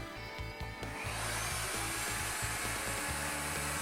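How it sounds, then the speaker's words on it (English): Router cutting a mortise in wood with a Leigh FMT mortise and tenon jig, a loud continuous high whine with a rumbling, fluttering low end as the bit works the cut. "Now route the first mortise"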